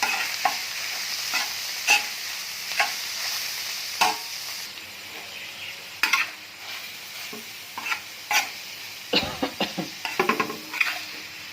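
Minced beef keema fries on a tawa, a constant sizzle punctuated by regular sharp scrapes and clacks of a spatula against the metal, close up and fairly loud, with no talking.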